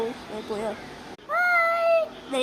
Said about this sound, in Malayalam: ഇതാണ് കുഞ്ഞുപൂച്ച